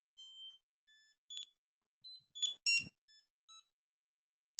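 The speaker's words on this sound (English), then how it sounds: "if you could hear those little beeps of joy from the Socket Mobile device" A series of short electronic beeps from a Socket Mobile barcode scanner, some single and some in quick pairs, clear and high-pitched against silence.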